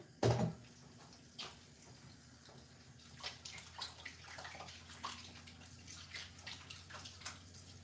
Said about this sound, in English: So I'm gonna add water to wash them.